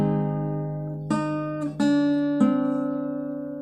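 Acoustic guitar chords from a song lesson, a few strummed chords struck in turn and left ringing, close and clear with no voice over them.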